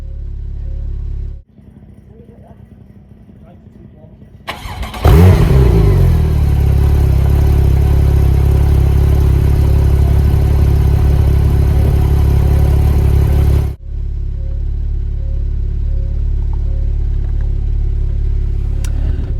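A 2014 Porsche 911 (991) Turbo Convertible with a 7-speed dual-clutch gearbox fires up after a brief crank, its exhaust jumping to a loud, deep, steady rumble that holds for several seconds before settling into a quieter idle.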